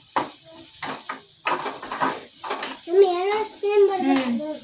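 Onion and garlic paste frying in a pan while being stirred, soft sizzling with spoon scrapes and clinks against the metal, interrupted by someone talking and a voice over the cooking.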